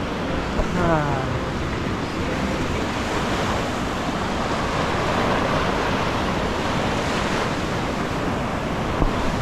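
Ocean waves at Tamarindo beach in Costa Rica make a loud, continuous roar of surf mixed with heavy wind buffeting the microphone, with a voice faintly audible under the noise.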